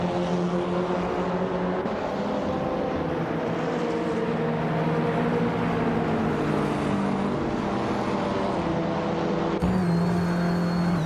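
Racing car engines at Highlands Motorsport Park in a racing game, including a 2016 Hyundai Elantra, hum in a steady layered drone with shifting pitches as cars hold speed, then an abrupt change near the end.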